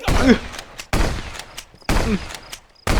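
Shotgun blasts in the Contraband Police game, four loud, close booming shots spaced about a second apart, each with a short metallic pump or reload click after it.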